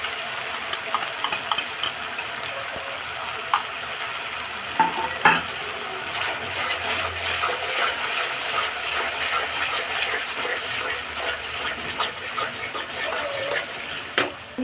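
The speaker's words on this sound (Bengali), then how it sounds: "এই সময় আমি 2 চামচ টক দই ফেটিয়ে দিয়ে দেবো" Paneer masala sizzling steadily in a pan as beaten yogurt is stirred in, with a continuous hiss and occasional sharp clicks and scrapes from the spoon against the pan.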